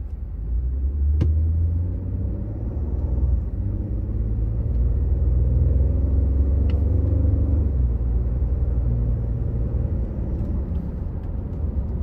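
2014 Ford F-150 Platinum 4x4 pickup heard from inside on a test drive, a loud, steady low road and engine rumble with a couple of brief clicks, no talking.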